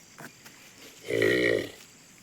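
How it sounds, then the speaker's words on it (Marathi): A single short, low cow grunt or moo close by, about half a second long, against quiet background. "गाय तिला झोप देत नाही सारखा आवाज करते"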